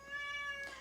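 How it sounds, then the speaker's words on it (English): A single cat gives a short, clear, tonal meow, faint and indoors, with no talking over it. "My cat is very vocal, so you'll hear him coming up"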